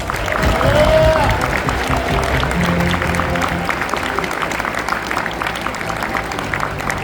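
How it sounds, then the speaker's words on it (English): An audience applauds to welcome a university president at the opening of the 62nd Feast of Nations, with steady clapping and crowd noise filling the room and a few voices mixed in. "Please welcome President Andrew Armacost with a round of applause"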